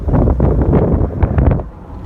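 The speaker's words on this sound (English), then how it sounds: "probably too windy." Wind buffets the microphone at an outdoor dirt race track in low rumbling gusts, rough and uneven, easing slightly near the end.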